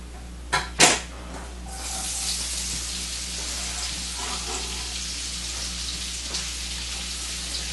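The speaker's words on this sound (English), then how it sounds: "let's get these onions in there" Onions drop into a hot soup pot for an Italian wedding soup with a couple of sharp thuds, then settle into a steady, even frying hiss that carries on unbroken.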